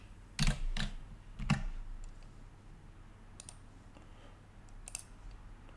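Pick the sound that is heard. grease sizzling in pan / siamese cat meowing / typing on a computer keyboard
typing on a computer keyboard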